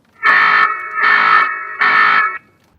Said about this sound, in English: I like this alarm feature here.